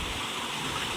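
Irrigation water flows steadily into a sugarcane field, a continuous gushing, stream-like rush that stays fairly loud and even for its brief second.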